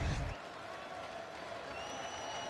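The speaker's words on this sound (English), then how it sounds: "the crowd are out of their seats here in Berlin" Arena crowd roaring at a mixed martial arts fight in Berlin, a dense, steady wash of cheering and clapping that swells briefly at the start, then holds at a fairly even level throughout.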